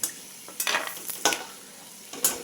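Peanuts sizzle in hot oil in a pan while being stirred, with several bright scraping, crackling bursts from the spatula over a steady low fry, close by and fairly quiet.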